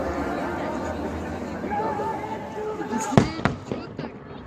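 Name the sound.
fireworks bang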